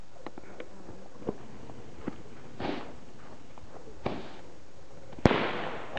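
A garlic-style firecracker goes off outdoors with a sharp, loud bang near the end, after scattered small pops and crackles, where bottle rockets and firecrackers are being lit.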